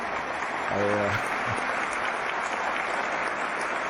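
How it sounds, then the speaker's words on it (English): Applause in a multiplayer flight-sim voice chat, a steady noisy wash lasting about four seconds with a brief tonal blip near the start. "an applause for Bats for that comment."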